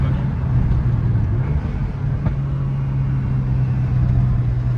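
A Stage 1 tuned car with a Gen4 engine and flex-fuel setup on a rough road, heard from inside as a steady, loud, low engine drone with road rumble, pitch holding fairly even, no voices.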